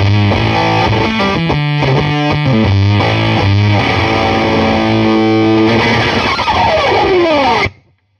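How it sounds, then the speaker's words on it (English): Electric guitar through a DOD Carcosa fuzz pedal plugged straight into the low input of a Hiwatt Custom 20 amp, loud saturated chords and riffs ending on a ringing, sliding decay that cuts off abruptly. "I'm using a DOD Carcosa straight into the low input."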